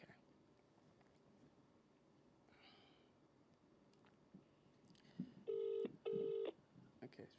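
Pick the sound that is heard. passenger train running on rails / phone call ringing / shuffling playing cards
phone call ringing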